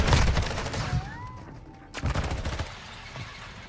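Assault rifle gunfire in Call of Duty MW2 ranked play: rapid bursts of loud shots at the start and again later, with a short quieter stretch between carrying faint tonal game sounds.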